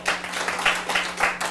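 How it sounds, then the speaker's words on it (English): An audience claps at a city council meeting, a dense, moderately loud patter of many hands in uneven bursts that swell and fade across the moment. "can you please not clap"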